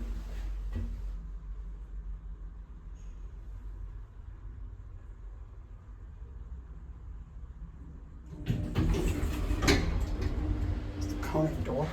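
KONE TMS hydraulic elevator doors at Copenhagen Airport operate with a low rumble and sliding noise, then a louder burst of door movement and mechanical clatter near the end, with background airport ambience.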